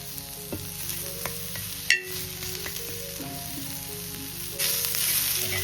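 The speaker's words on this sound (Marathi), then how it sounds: "चला कांदा मस्त की परतवून घेऊया आणि वरून थोडंसं तेल टाकूया" Onions sautéing in a little oil in a pan for a Kokan-style chicken dish: a steady close sizzle with occasional clinks of a stirring spoon, growing brighter and louder toward the end.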